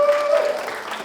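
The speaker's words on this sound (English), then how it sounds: "Let's give them a round of applause!" A round of applause at a school opera workshop event, with the clapping crowd near and loud at first and tapering slightly over about a second, a faint tonal note sounding briefly early on.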